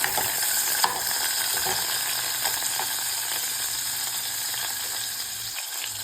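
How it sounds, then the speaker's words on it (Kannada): Tomato and garlic frying in olive oil in a pan, a dense even sizzle held close and constant, with faint stirring clicks and no speech. "ಅದೇ ಪ್ಯಾನ್ಗೆ ನಾನೀಗ ಆಲಿವೆಲ್ಲು, ಟೊಮೆಟೊ ಮತ್ತು ಗಾರ್ಲಿಕ್ ಹಾಕಿದ್ದೀನಿ. ಇದನ್ನು ಫ್ರೈ ಮಾಡೋಣ."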